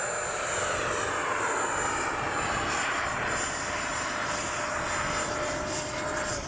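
A Freewing 90mm T-45 radio-controlled jet with an electric ducted fan flies by in a late sortie with its gear up. It gives a loud, steady whooshing whine that holds throughout.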